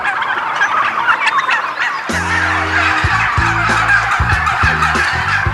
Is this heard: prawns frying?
no